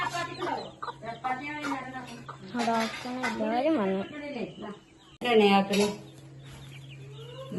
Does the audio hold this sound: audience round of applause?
no